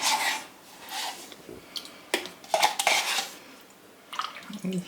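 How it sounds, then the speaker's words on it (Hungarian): Green bean soup being stirred in a pot, giving soft scraping and clinking bursts of a spoon against the pot, with gentle liquid sloshing between them, close and moderately quiet. "Kicsit átkeverem, és ennyi"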